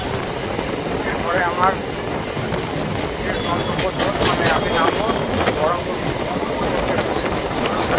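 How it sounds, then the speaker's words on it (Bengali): A train pulling out of Beldanga station, its steady rumble and rattling carriages running loud and continuous throughout while someone talks over it. "আমাদের ট্রেন বেলডাঙ্গা স্টেশন ছাড়লো।"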